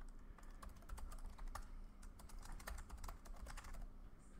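A password typed on a computer keyboard, a steady stream of faint, close key clicks at a brisk, uneven pace over a low background hum.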